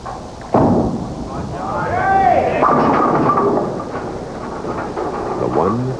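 A bowling ball rolls down the lane and crashes into the pins on a spare attempt at a 1987 professional tournament, a sharp clatter followed by rumbling, with a commentator talking over it.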